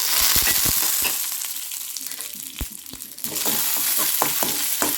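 Mustard seeds sizzle and crackle in hot ghee, with sharp little pops bursting over a continuous frying hiss, heard up close.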